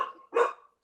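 One dog gives a single loud bark close by, following a fainter tonal sound, then silence.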